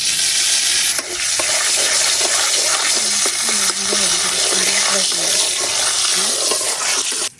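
Oil sizzles and crackles steadily in a pan as turmeric and salt are added for frying potatoes, a loud, continuous hiss with scattered small pops and stirring noises.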